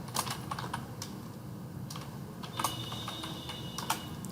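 Quiet, close typing on a computer keyboard as a product name is entered into billing software, a run of soft irregular key clicks with a few sharper taps, no voice.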